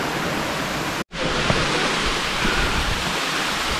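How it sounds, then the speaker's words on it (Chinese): Waterfall beside a paved hiking trail up Penang Hill, heard as a steady, close, full rushing roar that fills the clip, with one abrupt momentary dropout near the start. "经过了一个瀑布，然后继续的往上走。"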